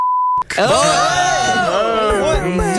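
A sharp steady censor beep tone runs alone for a moment, then cuts out as a voice starts speaking loudly and continues to the end.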